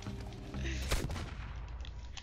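A gunshot in the video game Red Dead Redemption 2 cracks once, sharp and loud, over a dense background rumble, with a faint echo trailing after it.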